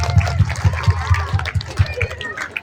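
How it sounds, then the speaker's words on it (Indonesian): Schoolchildren clap in a steady rhythmic beat during an Isra Miraj school gathering, a loud group round of applause with faint voices and chatter mixed in. "Tepuk tangan untuk dia."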